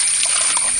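Water poured outdoors near a house, a steady trickling and splashing stream that runs the whole short moment, close and fairly loud, with no voices.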